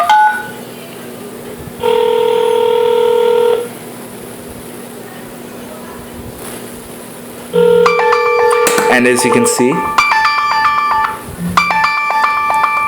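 An iPhone on FreedomPop places a call: a steady ringback tone sounds twice, then a jumble of bright beeping tones and notification chimes follows, with someone talking over parts of it.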